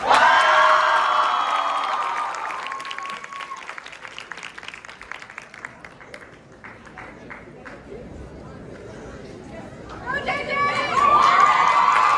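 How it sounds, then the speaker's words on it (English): A high school crowd claps and cheers for a student candidate, with loud whoops and shouts at the start, applause tapering into chatter, then a fresh swell of cheering and clapping near the end. "3 big claps for Maddie Braun"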